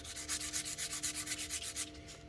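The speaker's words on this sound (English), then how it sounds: "just use a sandpaper and make it even smoother" Sandpaper rubbed by hand over curb rash on a Tesla wheel, a close, steady series of rhythmic rasping strokes that stop near the end.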